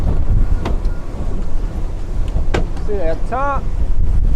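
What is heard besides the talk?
strong wind blasting on a boat heading into it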